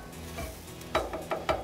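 A spatula works taco seasoning into browned meat on a Blackstone griddle, giving a few close scraping strokes over a faint sizzle, with no talking.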